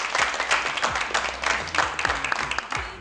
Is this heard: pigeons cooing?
no